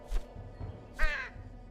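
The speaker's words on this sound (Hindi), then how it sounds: "मेरे कौवे पर भरोसा रखिए, मैं इसे कई सालों से सिखा रहा हूँ।" A crow caws twice, close and clear, in a short pair of harsh calls with a brief gap between them, in an animated pirate story where the crow carries messages.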